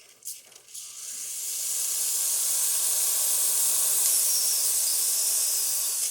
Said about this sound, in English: And then I'll show you the steam.